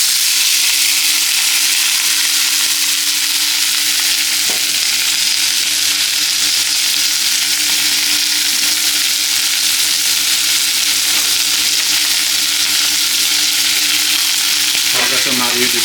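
Chopped ingredients sizzle in hot oil, a loud, dense, unbroken frying hiss held close throughout, with faint occasional clicks and no voices.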